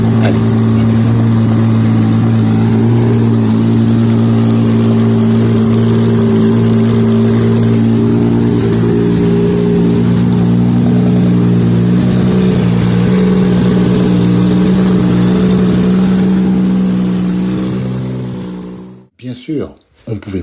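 A Le Mans race car, the fastest ever at 407 km/h, runs with a steady loud engine drone for most of the stretch, its pitch holding level before cutting off abruptly near the end.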